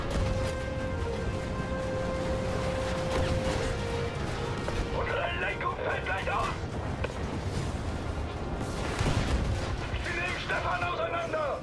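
Gunfire and artillery in a World War II battle in Battlefield V, continuous rumbling blasts and rattling shots in dense layers, with a voice talking over the combat noise.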